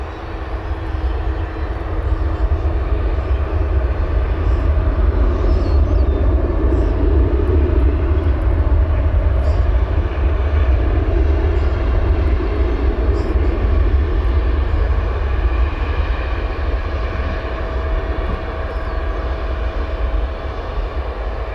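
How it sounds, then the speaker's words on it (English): Air Wisconsin CRJ 200 regional jet at Chicago O'Hare Airport in the evening, a steady loud jet engine roar and rumble lasting throughout with a faint whine, a voice talking over it at times. "It's got the Air Wisconsin retro livery CRJ 200."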